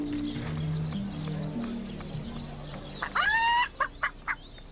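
A rooster in the video game Divinity: Original Sin crows once, loudly and close, after some low talking, then clucks a few times in short bursts.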